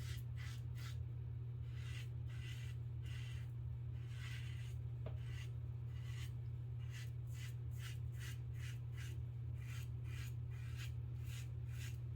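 A Henson aluminum safety razor shaves coarse, thick hair under the neck, making a run of short, close scraping strokes in a steady rhythm over a constant low hum.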